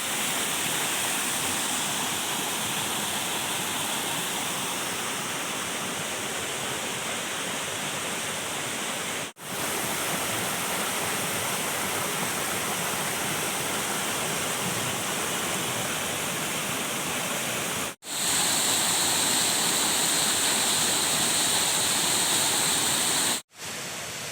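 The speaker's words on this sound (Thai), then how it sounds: "เป็นบรรยากาศน้ำตกชั้นแรกนะครับ จะเป็นน้ำตกน้อยๆลงมา" Steady rushing of a small waterfall at Khao Sip Ha Chan, Chanthaburi, Thailand, a constant dense splashing hiss that continues unbroken, with a couple of brief cuts.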